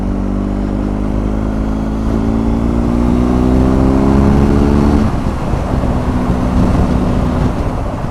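A BMW R1250 GS Adventure TE Triple Black Edition motorcycle engine pulls hard, its drone climbing steadily in pitch, dropping at a gear change, then climbing again, loud and close with steady wind and road noise and no talking.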